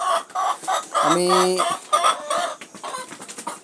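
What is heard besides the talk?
laying hens clucking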